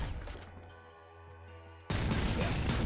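Auto duster shotgun in the video game Nuclear Throne, with a low droning hum that suddenly gives way to a loud, dense burst of rapid blasts that continues to the end.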